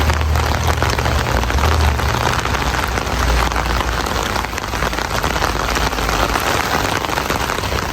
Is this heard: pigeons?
no